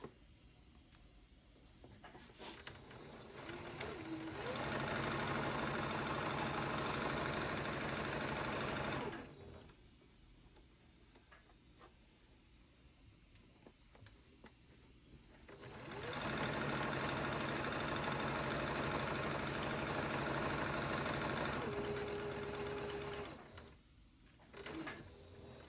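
Sewing machine stitching cuffs and hems on clothing, running in two sustained bursts of steady whirring separated by quieter pauses, close and fairly loud with no talk.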